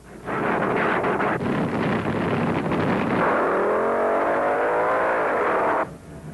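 Two drag racing cars at a 1972 spring nationals event roar off the line with a loud, sustained engine blast that climbs in pitch as they accelerate away, then cuts off abruptly near the end.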